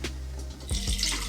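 Water sloshes and pours as the collection basin of an Insignia 70-pint Energy Star dehumidifier is tipped out, a short close splash with a couple of heavier gushes near the end.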